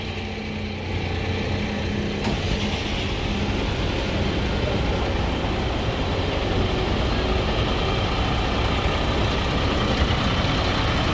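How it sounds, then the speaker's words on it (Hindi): An Eicher Pro 6055 XP trailer truck with a 7.7 litre six-cylinder diesel idles close by, a steady, even, low rumble that holds unchanged throughout with no voices. "आप इसके इंजन की साउंड को सुन सकते हैं,"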